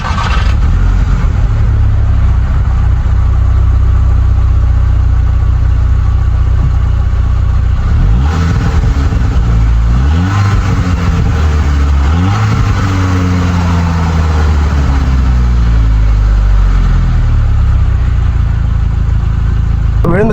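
A Volkswagen Golf GTI engine drones loudly and steadily from inside the car while driving, then revs rise and fall through several gear changes as it accelerates along the road.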